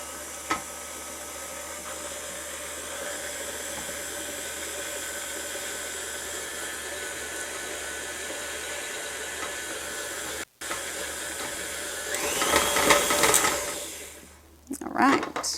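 Stand mixer whirring steadily as it mixes red velvet cookie dough of flour and wet ingredients, a constant close motor hum with a brief pause and a harsher, louder stretch near the end.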